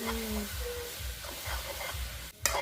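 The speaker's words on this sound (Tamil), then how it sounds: "உருளைக்கிழங்கு நல்லா வதங்கி கொண்டிருக்கு" Potatoes sauté in a pan with a low steady sizzle and stirring scrapes, heard up close for a few seconds and ending in a sharp utensil clatter.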